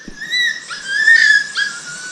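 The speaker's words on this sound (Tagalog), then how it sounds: "Maliit na aso." A small dog whimpers in a few high, thin, drawn-out whines, close and fairly clear against a quiet background.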